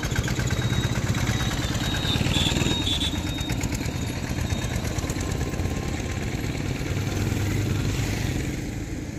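Motorcycle engine running along a potholed, dusty state road, a steady, close mid-pitched drone with rattling, continuing loudly throughout without voices.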